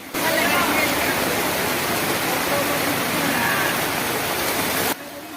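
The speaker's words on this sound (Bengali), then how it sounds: "প্রচণ্ড বৃষ্টির কারণে চলাচলে ব্যাহত হচ্ছে জনজীবন" Heavy rain pours in a city street in Dhaka near Gulistan, a steady dense hiss of downpour that holds loud and unbroken for about five seconds before cutting off abruptly.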